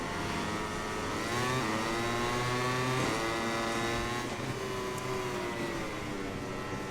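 A MotoGP racing motorcycle in the MotoGP 21 video game howls steadily at high revs, its pitch dipping and climbing through gear changes and corner exits, loud and continuous with no talk over it.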